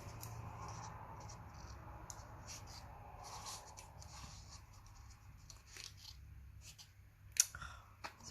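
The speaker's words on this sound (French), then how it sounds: "Ça bloque des fois le ciseau." Scissors cut paper for a scrapbooking photo album, making soft, close snipping and crinkling sounds in short bursts, with a sharper snip near the end.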